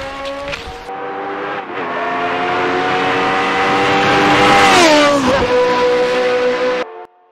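An RSS Formula 79 race car in Assetto Corsa at Ahvenisto gives a loud, steady engine whine that climbs in pitch, dips sharply as the car shifts gears, then carries on before cutting off abruptly.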